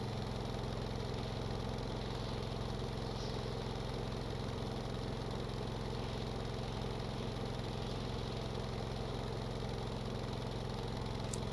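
Boat engine in the Stormworks video game running at steady revs, a continuous low droning hum with a rough, pulsing texture that stays even throughout, with no voices.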